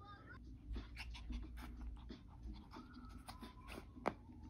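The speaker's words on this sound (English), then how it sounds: "that dog's wild" An excited, energetic dog pants rapidly nearby, with faint whimpering and small scuffling sounds indoors, ending in a sharp click.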